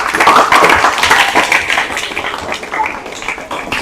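A group of students claps for a classmate in a classroom, a dense, loud burst of hand clapping that tapers off gradually.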